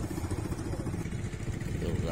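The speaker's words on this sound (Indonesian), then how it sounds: "Ini perahu ya, di sekitar Pulau Bokori" A steady low boat motor drone runs throughout, close and continuous, with a faint mechanical clatter and some voices mixed underneath, on the water around Bokori Island, Southeast Sulawesi, Indonesia.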